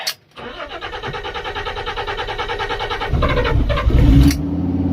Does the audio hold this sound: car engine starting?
yes